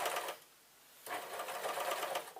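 A sewing machine stitching a stretched waistband on yoga trousers, a close steady buzzing whir that runs, pauses briefly, then starts again and continues, with no talking.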